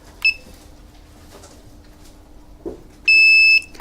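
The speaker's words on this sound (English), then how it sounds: "When you hear a beep sound," A Wisen wireless burglar alarm panel beeps while its rear Wi-Fi button is held during setup: one short beep early on, then a longer, louder tone near the end, each alone over a quiet background.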